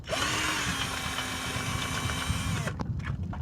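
A power tool whirs steadily on a 17mm bolt of a Mazda 3 rear engine mount, running for under three seconds and then stopping, followed by a few faint clinks.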